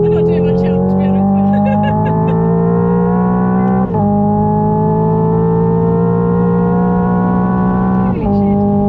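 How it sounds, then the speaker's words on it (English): A Hyundai IONIQ 5 N at high speed plays a loud synthetic engine drone that climbs steadily in pitch and drops sharply at each simulated gear change, with two shifts heard close up inside the car. "It's the noise it makes with the gear changes"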